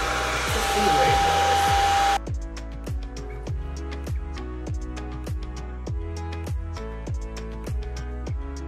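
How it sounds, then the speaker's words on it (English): A blow dryer blasts over glue on a lace front wig, a loud, close, steady rush for about two seconds. It cuts off abruptly, and rhythmic background music with sharp beats takes over. "So I'm just gonna go ahead and give it a little pump by just blow drying it."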